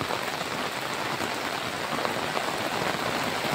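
Dense, steady rain pouring down close by, a constant hiss of drops with no pauses.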